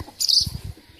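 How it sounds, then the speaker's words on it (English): Small birds chirp in a nest in a rural Ukrainian village yard, giving one short, high burst of calls early on with low murmurs beneath. "we have a nest with the small birds in here"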